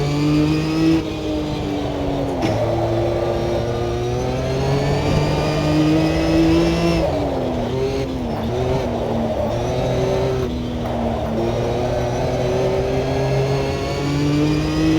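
A race car engine in a racing video game revs loudly and continuously toward redline, pitch climbing through gear shifts with brief dips, close and dominant with no talking.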